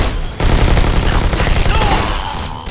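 Uzi gunfire in the VR game Robo Recall, a loud, close, rapid automatic burst that starts abruptly and runs continuously for over two seconds, with brief speech mixed in.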